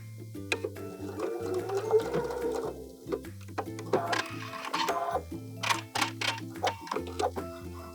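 A sewing machine stitches a fabric sleep eye mask in short, rhythmic bursts of mechanical whirring and ticking, stopping and starting several times at close range with no talk.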